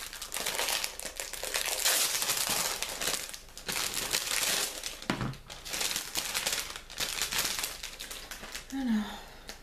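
Plastic packaging crinkles and rustles loudly up close as a parcel is opened, in bursts of crumpling and tearing with short pauses, and a brief voice sound near the end.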